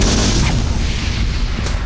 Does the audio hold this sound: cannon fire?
yes